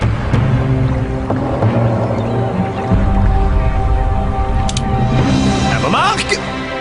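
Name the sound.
splashing water, making waves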